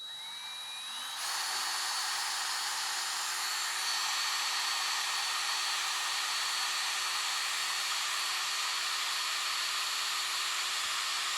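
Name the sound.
power drill drilling a hole in a metal tube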